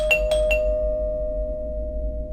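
A doorbell sounds with three quick strikes in succession, followed by a sustained ringing tone over a low background hum.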